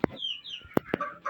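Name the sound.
Fayoumi roosters clucking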